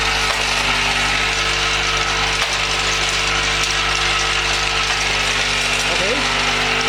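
A wood dowel double end chamfer machine running, a loud continuous mechanical drone with steady humming tones and rattling vibration throughout, close by.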